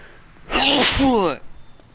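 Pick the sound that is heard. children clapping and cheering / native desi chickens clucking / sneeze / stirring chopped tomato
sneeze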